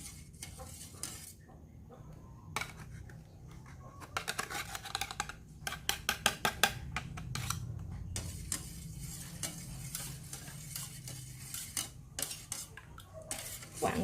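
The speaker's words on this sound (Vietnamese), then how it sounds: "Các bạn quậy đều nó lên." A spoon stirs a mixture of drinkable yogurt and milk in a pot, with repeated scraping and clinking against the metal in uneven bursts, close and fairly quiet, with no talking.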